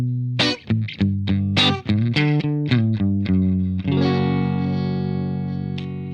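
An electric guitar, a PRS NF3 SE or Silver Sky SE on its fourth pickup position, plays a quick run of distorted picked notes and ends on a sustained ringing chord, loud and alone.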